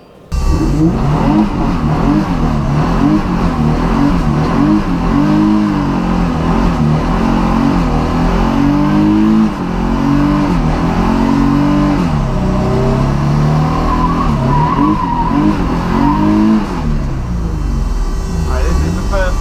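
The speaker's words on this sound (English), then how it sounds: "hopefully that was enough of a burnout to scrub them in" A drift car at Driftland performs a burnout, its engine revving hard and steadily with the tyres skidding continuously for nearly twenty seconds, loud and close, with a brief dip in the roar near the end.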